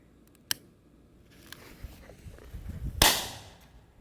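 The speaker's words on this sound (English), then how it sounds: "As you can see, the firecracker is right there." A short-fuse firecracker set off under a solo cup gives a sharp pop, a fainter snap, then a louder close burst with a rushing tail, and no talk.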